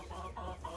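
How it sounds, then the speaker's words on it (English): A black copper Marans rooster gives a few soft, short clucks, faint and close, in a quiet space. "So that's my black copper Moran rooster"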